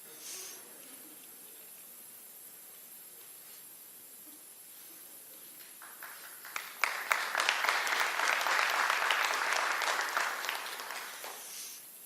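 Applause from an audience at a high school senior awards ceremony, rising in the latter half over a steady background hiss, with scattered claps building to a fuller burst before fading.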